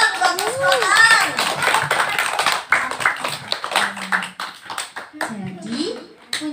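Scattered hand claps from children at a Quran study class, irregular and uneven, mixed with children's voices and a teacher speaking over them.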